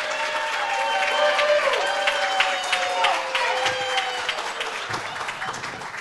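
Clapping and some cheering from an audience at a live talk by local sports broadcasters, a steady wash of hands that slowly fades, with a voice speaking and others calling out through it.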